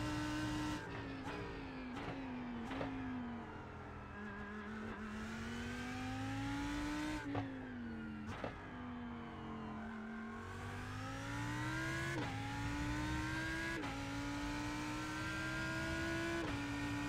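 A Lamborghini GT3 race car in the iRacing sim runs a flying lap, its engine loud and close, rising in pitch through each gear and dropping at every shift, with no talk over it.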